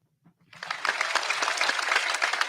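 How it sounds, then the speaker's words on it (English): A clapping-crowd applause sound effect rises quickly out of near silence and holds steady as a dense, even wash of hand claps, with a faint voice murmuring just before it starts. "You should click the applause for yourself while you're looking."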